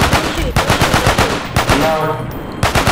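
Rapid gunfire rattles in Garry's Mod, loud and close, in quick repeated bursts with short gaps and a voice briefly heard beneath.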